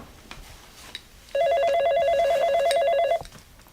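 A telephone rings in a steady electronic trill lasting under two seconds, loud and close, between quiet room noise with no talking.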